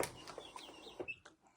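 Farm chickens give soft, brief clucks and murmurs, a few scattered notes close by in a quiet setting.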